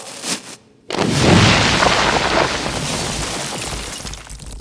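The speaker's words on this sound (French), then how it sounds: "Un pétard! Hein? De la dynamite en moins gros." A small dynamite-like firecracker goes off with a single loud crack and burst, followed by a long noisy rumbling wash that slowly fades; a brief thump comes just before the blast.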